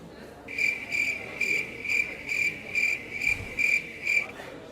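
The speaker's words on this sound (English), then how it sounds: "I much prefer the sound of crickets to chat." Cricket chirps ring out in a steady series of about eight evenly spaced bursts, clear and close against a faint, quiet background.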